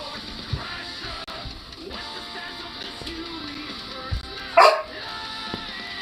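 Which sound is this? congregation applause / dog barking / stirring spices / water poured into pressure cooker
dog barking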